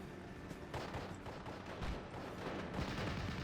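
Distant, rattling gunfire from infantry squads in the WWII strategy game Steel Division: Normandy 44 fighting among Normandy hedgerows, a dense, continuous crackle of shots with scattered heavier thumps, steady and moderately loud throughout.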